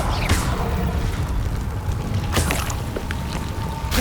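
A Confringo blast spell in the game Hogwarts Legacy goes off as a couple of sharp bursts, near 0.3 and 2.4 seconds, over a steady low rumble of game ambience.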